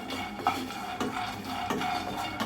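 Raw peanuts dry-roasting in a pan on low heat, stirred with a spoon, giving faint rhythmic scraping and rattling strokes about every half second, close and quiet with no talk.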